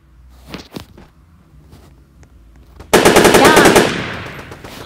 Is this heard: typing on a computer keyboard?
no